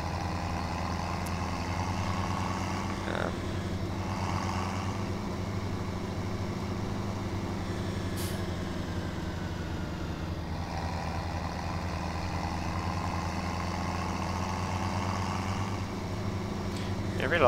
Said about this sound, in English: I really like the sound of these tractors in game. They sound quite grunty.